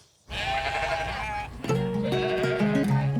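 Sheep kept on a solar farm bleat loudly and close, one long wavering call followed by a second, shakier bleat, with a low murmur of background noise beneath.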